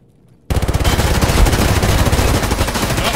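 Sustained automatic fire from a PPSh submachine gun in Escape from Tarkov, kicking in suddenly after a quiet half-second and continuing as a loud, dense, rapid burst to the end.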